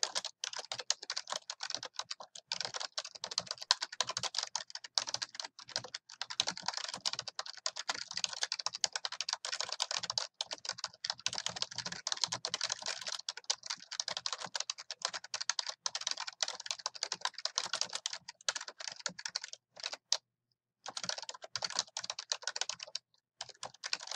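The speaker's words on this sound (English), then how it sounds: "we are going to type our information here" Steady typing on a computer keyboard while entering information into a research paper, with fast continuous key clicks and only a couple of short pauses, close and clear with no speech.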